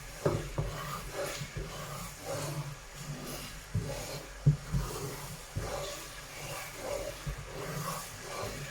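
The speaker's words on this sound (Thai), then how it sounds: "แล้วก็ผัดไปให้หมูมันสุก" Pork belly stir-fried in a pan on an electric stove: soft sizzling with irregular scraping and stirring clatter, close and moderately quiet.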